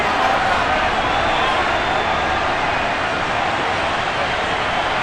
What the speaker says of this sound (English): Well, the crowd doesn't like that.